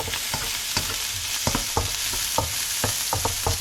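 Onion sautéing in a very hot pan for a home-cooked zucchini and spinach dish, a steady close sizzle broken by sharp scraping stirs at irregular intervals, with no voices.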